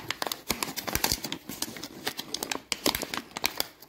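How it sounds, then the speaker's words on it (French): Crinkling of a large plastic inner bag of Auchan oat flakes as it is pulled and handled, rapid close crackles and rustles with no one speaking. "c'est un gros sachet à l'intérieur. J'arrive à l'ouvrir."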